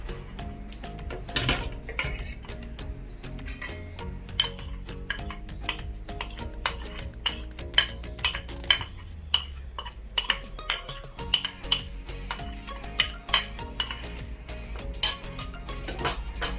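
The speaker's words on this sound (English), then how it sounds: "And I'm going to continue to whisk." A whisk stirring sifted cornstarch into an egg yolk and sugar mixture in a bowl, with rapid, close metallic clinks and scraping against the sides, fairly quiet, with a few louder taps toward the end.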